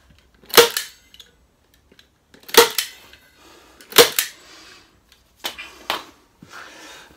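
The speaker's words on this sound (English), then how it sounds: "put 3 staples in right down the bottom there, make sure it's tight" Sharp staple gun shots driving staples through fabric onto a wooden acoustic panel frame, several separate loud snaps, some in quick pairs, with quiet pauses between them.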